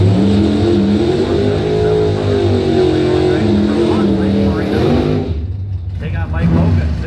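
A dragster engine at a drag race drones loud and steady with a low rumbling tone, briefly dipping before surging again, while an announcer talks over it.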